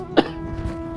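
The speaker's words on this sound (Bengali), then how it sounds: "কাশিটা বাড়ছে?" A single sharp cough from a nearby person, brief and loud against a quiet background, with no talk.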